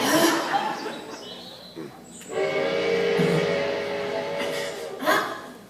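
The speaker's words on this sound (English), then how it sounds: "Ah, there's your train." A train sound plays through a hall during a Full Metal Alchemist convention panel skit: a steady, horn-like sustained tone runs for a few seconds, mixed with crowd murmur and laughter.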